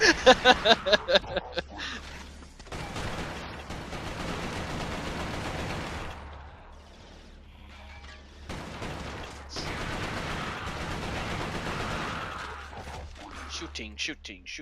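Gunfire from the video game Resistance: Fall of Man, with a quick burst of rapid shots at the start and dense, sustained shooting and action noise through most of the stretch, while people talk over it.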